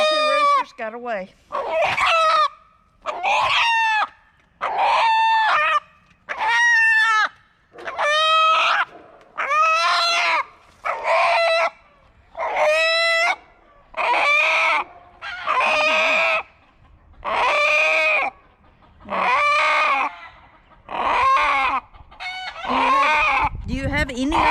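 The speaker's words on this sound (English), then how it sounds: "These roosters came from a free-ranging environment, so he's never been handled before." Free-range roosters, never handled before, squawk and crow in loud, repeated bursts while being caught, about a dozen distressed calls in a steady rhythm, close by.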